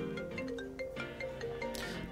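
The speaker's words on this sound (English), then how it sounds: "Suddenly, Natsuki's phone starts ringing." A phone ringtone plays in a video game, a faint melodic electronic tune of repeated chiming notes that runs steadily from start to finish.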